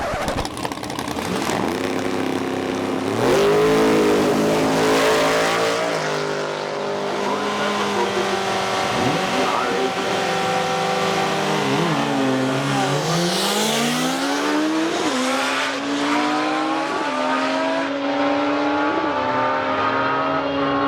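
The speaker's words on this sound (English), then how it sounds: "We are at Mission Raceway racing my bike." A turbocharged Suzuki Hayabusa motorcycle roars hard down the drag strip at Mission Raceway, its engine climbing through gears with rising whines and abrupt drops at each shift, loud and sustained throughout.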